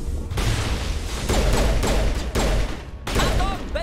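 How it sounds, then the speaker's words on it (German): Heavy gunfire in the video game Mass Effect, loud sustained bursts of automatic fire broken by brief gaps, dense and close throughout. "Achtung, Beschuss!"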